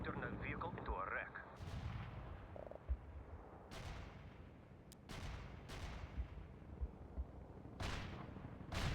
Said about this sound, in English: Artillery strike successful.